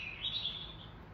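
Birds chirping outdoors around a home, a few bright high tweets standing out faintly over a low background hum, with no talking.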